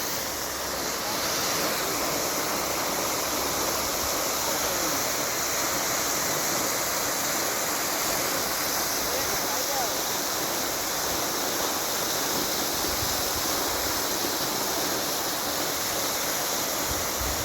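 Fountain water spraying up in a park in front of a hotel at Ravangla, with rainbows in the spray: a constant loud rushing hiss of falling water, steady and unbroken throughout.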